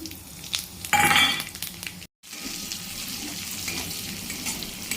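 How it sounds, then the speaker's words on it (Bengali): Fennel, cumin and dried chillies temper in hot oil left from frying pointed gourd, making a close, steady sizzle with a louder burst early on and a brief dropout midway, with no talking. "সেই পটল ভাজা তেলেই মৌরি, জিরে আর শুকনো লঙ্কা ফোড়ন দিয়ে দিচ্ছি।"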